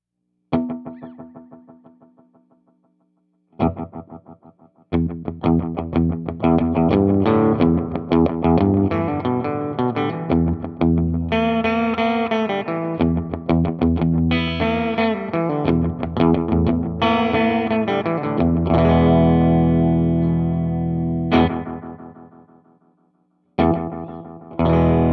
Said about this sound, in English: you can get kind of a little bit of a chaotic sounding, almost reverb tone from a delay